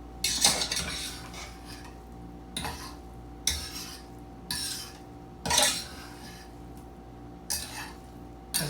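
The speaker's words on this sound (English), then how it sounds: "it's a little scrape on the bottom so it fluffs it" A utensil scrapes cooked jambalaya rice off the bottom of a pan in about eight separate strokes, each a short, gritty metallic scrape with a knock at its start and quiet gaps between them.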